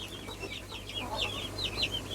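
Pekin and Silkie bantam chickens in a coop give soft, repeated clucks and chirps, fairly close, over a steady low hum with no talking.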